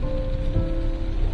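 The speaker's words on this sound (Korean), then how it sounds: "비가 오네요." Rain falling on a car crawling through rush-hour traffic in Gyeonggi Province: a steady, even hiss of drops over a low engine hum, with no break.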